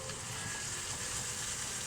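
Bacon shedding water as it fries in a pan, a steady broadband sizzle that holds evenly throughout, close and moderately loud, with no voices over it.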